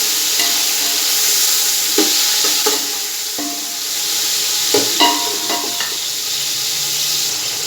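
Diced tomato cubes tip into a pot of lightly browned onions and sizzle loudly, the steady frying hiss broken by a few stirring clatters and scrapes.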